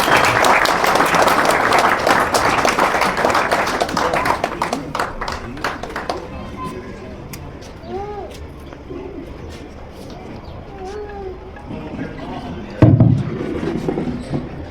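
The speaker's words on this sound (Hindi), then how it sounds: "जोरदार तालियों से स्वागत करेंगे पगड़ी बनाते हुए।" A crowd in a village square claps loudly in welcome as a man is honoured with a tied turban, the applause fading after several seconds, leaving sparse claps, pigeons cooing and people talking.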